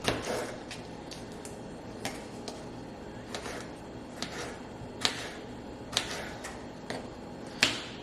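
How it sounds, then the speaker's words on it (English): A knife dicing a tomato on a cutting board, a series of crisp, quiet taps at an uneven rhythm, close and alone with no talking. "Now cutting up the tomato, or dicing it, I should say."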